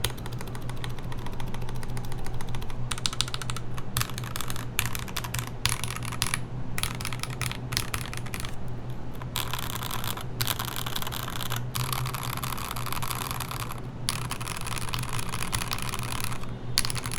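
Mechanical keyboard typing on a KLC Nori board with stiff-feeling modifier keys, steady clacking keystrokes in irregular bursts with short pauses, close and fairly loud over a constant low hum.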